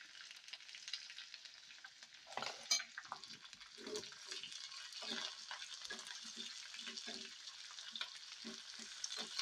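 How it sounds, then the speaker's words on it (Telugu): Onion pieces, dry red chillies and curry leaves crackle and sizzle steadily in hot oil for a dal tempering, with a sharper burst of frying around the middle as ingredients are stirred, close and continuous with no talking. "ఈ ఉల్లిపాయ ముక్కలు కొంచెం గోల్డెన్ బ్రౌన్ కలర్ వచ్చే వరకు ఒక రెండు నిమిషాలు వేపుకొని"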